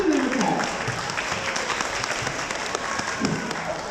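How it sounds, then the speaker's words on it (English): Audience at an agricultural show claps for a sheep shearer after a shearing demonstration, a lively steady round with some crowd murmur and a few voices under it. "Just give him a clap."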